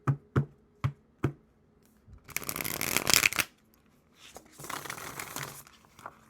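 Tarot cards are shuffled by hand: four crisp taps as the deck is squared, then two longer riffling bursts of flicking cards, close and clear with no talking.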